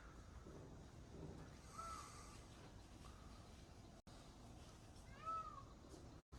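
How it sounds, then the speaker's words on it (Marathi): Peacock calling near a temple in Ujjain, two faint, distant wailing cries rising above steady outdoor background noise. "इकडून कुठून तरी आहे ना मोराचा आवाज येतोय"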